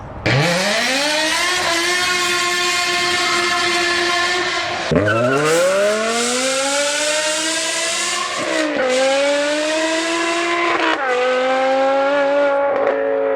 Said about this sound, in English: this is the BMW E60 M5, a car from a different time when engineers were slightly mad